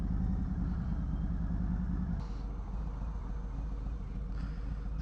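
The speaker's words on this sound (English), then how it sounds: "There's a bike going right there." A Harley-Davidson Softail motorcycle engine rumbling nearby, a steady low throb that drops in level about halfway through, with no voices.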